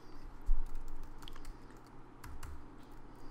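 Typing on a computer keyboard to enter a search in real-estate listing software: soft, quick clusters of key presses close by over low background hum, no talk.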